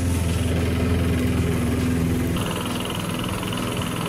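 A steady motor drone runs throughout at close range, loud and unbroken, consistent with a second-hand lawn mower engine running during yard work; the pitch shifts slightly partway through with no talking.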